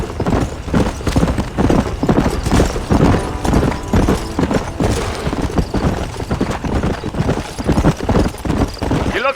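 Galloping horse hooves in Red Dead Redemption pound in a fast, driving, continuous rhythm, loud and close, with a brief whinny and scattered distant gunfire beneath the steady beat.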